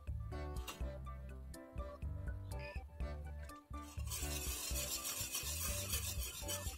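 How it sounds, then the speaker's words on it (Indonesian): A spoon stirs a purple silky pudding mixture in a pot, with steady scraping and swishing under continuous background music and a brief clink. "Aduk-aduk hingga tercampur rata."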